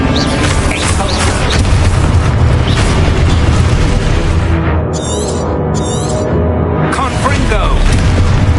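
An Expulso explosion spell cast in the game Hogwarts Legacy, a loud booming blast with a crackling rumble, among other spell effects and a player shouting incantations.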